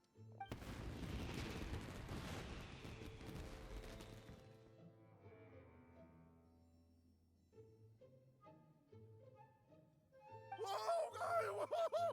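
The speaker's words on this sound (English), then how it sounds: "Yoimiya, this is turning into a bit of a fireworks display." Fireworks burst in the video game Genshin Impact: a loud explosive crackle and boom opens, fading into a quiet musical tail, then bright sparkling pops return near the end.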